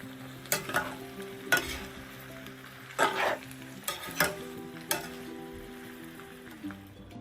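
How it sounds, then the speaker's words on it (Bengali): Pachan, a Bengali dish, stirred in a pan over heat: a run of scraping spatula strokes with a soft sizzle beneath, about seven irregular strokes, close and clear, with no voices. "পাঁচন রান্না হচ্ছে।"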